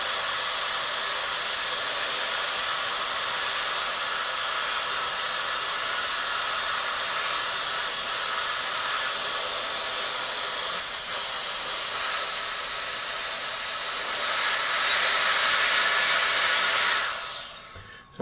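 Cold air blasts steadily onto a small 3D-printed gyro piece, a loud continuous hiss that grows stronger near the end before cutting off abruptly, with no talk.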